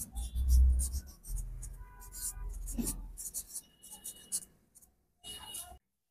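Pen on paper while someone handwrites the rules of binary addition for a Class 8 math lesson: scratchy strokes come in short bursts with brief pauses, close and clear.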